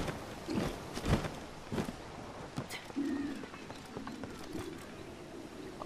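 Horse hooves galloping in The Legend of Zelda: Breath of the Wild video game, a quick run of uneven clip-clop thuds at moderate distance, alone with no talk.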